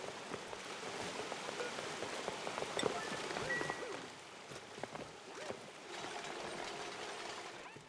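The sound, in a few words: flowing water in video game Oxygen Not Included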